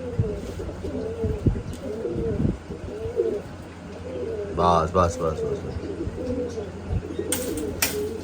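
Repeated throaty pigeon cooing, several birds close by in a steady rolling pattern, with a man calling out over them.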